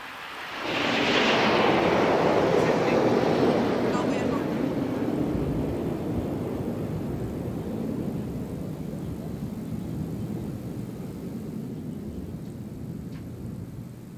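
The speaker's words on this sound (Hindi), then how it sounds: "और अब बारी है प्रशिक्षण के लिए उपयोग में लाए जाने वाले हॉक लड़ाकू विमानों की।" Hawk trainer jets fly past over a naval event for the warship INS Vikrant, a loud roar that swells quickly, peaks early, then settles into a long steady rushing drone as they recede.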